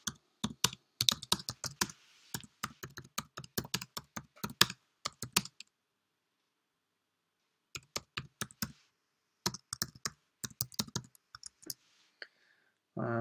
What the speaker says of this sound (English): I'm going to type in Carnarvon's reply.